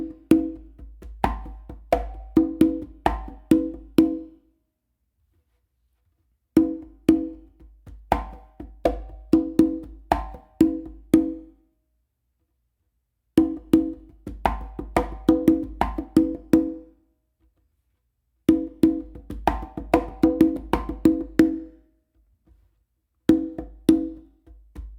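Four congas playing a funk groove in repeated busy bursts of slaps, open tones and bass strokes, separated by short silences, close and dry with no voices.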